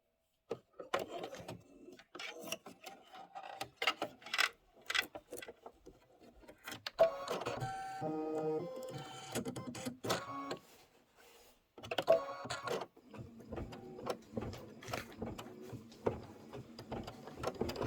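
An embroidery machine stitches white berries on a Kimberbell Cup of Cheer wreath design, making quiet bursts of rapid mechanical whirring and tapping, with short pauses and a brief break near the middle.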